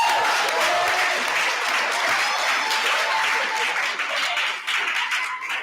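A graduation audience applauds continuously, a broad, even wash of many hands clapping that holds steady throughout with slight fading near the end.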